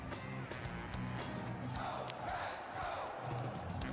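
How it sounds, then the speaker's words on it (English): A large NFL draft crowd cheers and roars continuously, a dense, distant-sounding wall of voices with shouts rising through it. "Listen to this crowd."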